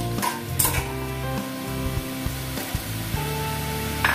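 Beans, carrots and chopped green chillies sizzle steadily in a pan, with a constant frying hiss broken by repeated clinks and scrapes of stirring.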